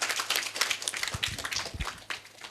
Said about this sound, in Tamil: நாங்கள் எல்லாரும் பலத்த கரகோஷத்தோடு